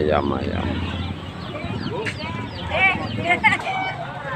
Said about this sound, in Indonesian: Sebelah sana ayam.